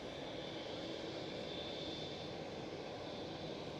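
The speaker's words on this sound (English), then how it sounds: "Right over there is a KLM City Hopper arriving." A KLM City Hopper airliner arrives at Schiphol Amsterdam, its engine noise a faint, steady distant roar that holds without a break.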